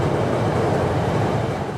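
A Chicago CTA train rumbling steadily at close range, a continuous loud rolling noise with no speech.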